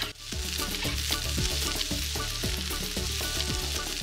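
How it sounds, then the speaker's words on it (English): Vegetable sofrito sizzles loudly in a paella pan set over a wood fire, with a dense continuous frying hiss and repeated scraping stirs of a utensil across the metal, no talking. "Once the sofrito is fragrant and beginning to brown, add the bomba rice."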